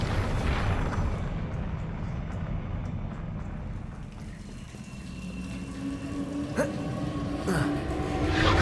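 Fire-spell blasts from a wizard game boom over a continuous roaring rumble, with a couple of sharper cracks near the end.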